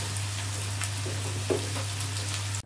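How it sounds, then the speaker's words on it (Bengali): Sliced potato rounds fry steadily in a pan, giving a continuous close sizzle with a few soft stirring clicks and a constant low electrical hum underneath. "তো চলো চাকচাক আলু ভাজাটা হতে থাকুক"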